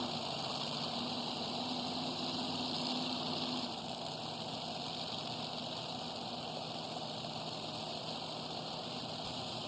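A tractor engine idles steadily at a tractor pull, a loud continuous mechanical drone with a slight drop in level partway through, no voices.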